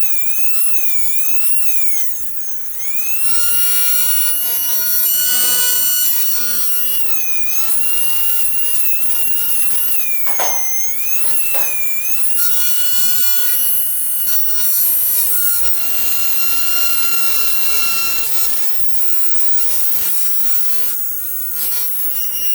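A tiny F130 toy DC motor running at 3.7 volts with no propeller attached, giving a steady high-pitched whine that shifts pitch slightly as it spins continuously, close and loud.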